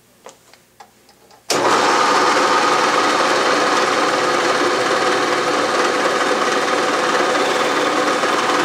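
A Bridgeport milling machine spinning up and running steadily before the cutter reaches the work, a few faint clicks then a sudden loud, continuous mechanical whir and hum that holds near and even, with no talking.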